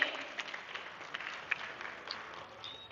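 Applause for meritorious students at an Uttar Pradesh award ceremony: a moderately loud crowd clapping steadily for a few seconds, with a few sharper claps standing out.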